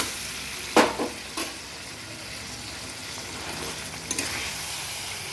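Boiled taro greens with shrimp get stirred in a sizzling pan: a few sharp spoon scrapes and clacks punctuate a continuous frying hiss, close and with no voices.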